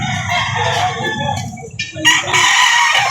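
A Boston-breed rooster crows loudly and close by at a chicken market, its crow dominating the moment alone, with some clucking around it.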